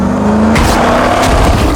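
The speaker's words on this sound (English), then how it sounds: "the leader floored the gas pedal" A car engine roars as it accelerates hard, tires squealing, loud and close throughout, with a steady whine layered over a rough growling drone and no voices.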